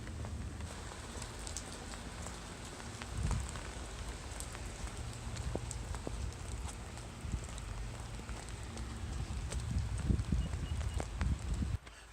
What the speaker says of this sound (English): Ooh, raining.